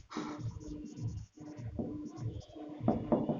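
Marker or chalk strokes on a board during a maths lesson on consecutive integers make close, scratchy writing sounds in uneven bursts, with short pauses between strokes and no speech.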